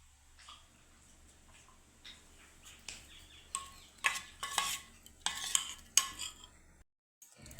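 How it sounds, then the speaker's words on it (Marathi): Spoon scraping and clinking against a bowl while food is mixed with salt, a series of soft, irregular scrapes and taps that grow louder toward the end, close by, with no talk. "आणि चांगलं मिक्स करून घ्यायचं"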